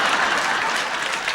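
A studio audience at a 1980s taping of The Price Is Right bursts into a short, dense wash of loud applause.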